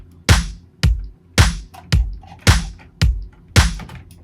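Layered kick and snare drum samples in an upbeat midtempo electronic production, playing a punchy alternating pattern of about eight strong, evenly spaced hits, loud and dry with no voices.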